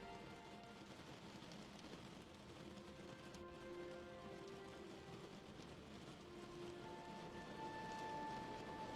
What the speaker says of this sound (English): The sound of the rain is relaxing as it taps out a message to your mind